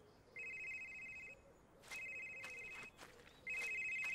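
A mobile phone rings in the game Someday You'll Return, three even bursts of electronic ringtone with short gaps between them, clear over a faint, dim background.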